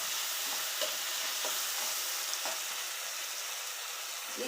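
Ground garlic paste fries in a pan with a constant loud sizzle, punctuated by soft periodic stirring scrapes.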